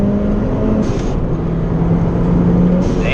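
A Mitsubishi Evo 3 street car with a big turbo running on ethanol pulls hard from inside the cabin, engine note climbing steadily in pitch, with a brief whoosh as gears change, loud and continuous.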